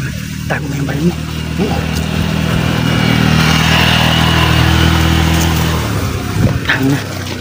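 A motorcycle engine droning steadily and swelling louder toward the middle before easing off, heard outdoors with people talking over it.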